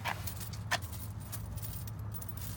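A bunch of keys jangles in short metallic bursts, faint and close, with a low steady hum underneath.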